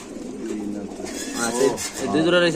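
Pigeons cooing at a pigeon market, with soft repeated throaty coos rising near the end over a busy background of voices and market bustle.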